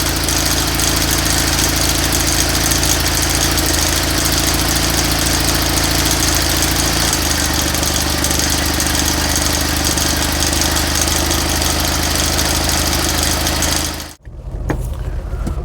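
Invacar invalid carriage with its small engine idling, a loud, steady mechanical hum with a slight knocking rhythm that shifts pitch midway, then cuts out abruptly near the end.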